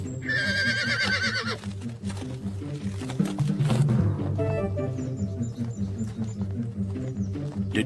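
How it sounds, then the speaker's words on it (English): A spirited, lightning-quick stallion whinnies in several rising and falling calls, with hoof clops in between, fairly close and clear. "Alexander had his first glimpse of a horse named Bucephalus"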